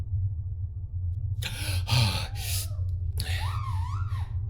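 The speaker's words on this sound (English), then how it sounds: "I woke up gasping, clawing at the plexiglass lid of the stasis pod" Sharp, ragged gasps for breath, two quick heaves then a longer shaky breath, close and loud over a low steady hum.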